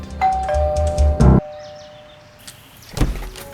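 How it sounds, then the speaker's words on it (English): A two-tone electronic doorbell chimes close by, followed by quieter rustling and a soft thump near the end. "isn't used to having his doorbell ring this early in the morning"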